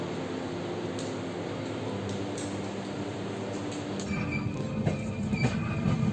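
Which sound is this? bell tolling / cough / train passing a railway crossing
train passing a railway crossing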